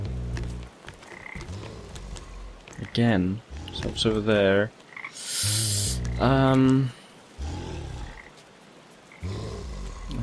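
Frogs croak in the video game Papo & Yo, short croaking calls popping up between stretches of someone talking over the game.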